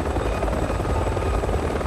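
Enemy helicopters approaching in the Resident Evil 6 video game, a steady loud rotor drone with a dense, continuous beating roar filling the whole moment, no voices.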